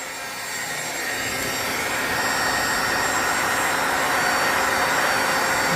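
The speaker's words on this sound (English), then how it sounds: "Hit it with the blow dryer." A blow dryer drying Mod Podge craft glue on a model truck body roars as a steady, loud broadband whoosh that swells slightly in the first second and holds without pause.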